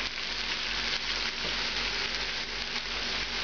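White wine and raisins sizzle as they cook down in a pan, a dense, even crackling hiss that holds steady throughout with no voices.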